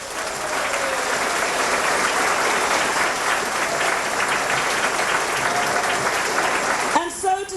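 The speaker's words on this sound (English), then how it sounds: "Could we give them an encouraging round of applause?" Warm, steady applause from the audience at the 1987 Cavan International Song Contest rolls on for several seconds before tapering off, ending as a voice begins to speak.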